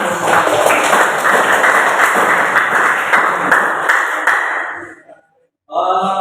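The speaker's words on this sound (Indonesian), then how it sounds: "Ya, tepuk tangan." A classroom audience claps together in a dense, steady burst of applause for about five seconds, then stops abruptly with a short silence before sound returns.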